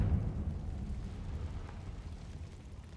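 A spell explosion from the Hogwarts Legacy video game, heard as a low, faint rumbling boom that swells and then lingers as a steady dull roar.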